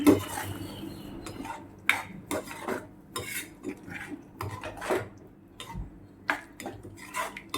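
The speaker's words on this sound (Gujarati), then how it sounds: "પછી એને મિક્સ કરીશું" Hyderabadi paneer masala being mixed in a pan after a few spoons of hot water are added: a spoon scrapes and clinks against the metal in repeated short strokes, close and moderately loud, with no talking.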